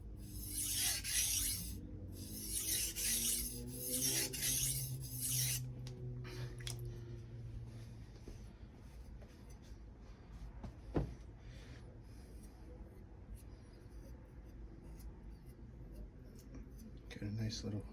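A ZDP-189 core steel Bunka knife is sharpened on a Suehiro #1000/#6000 combination whetstone, with rhythmic rasping strokes up close at first, then quieter rubbing and a single sharp tap.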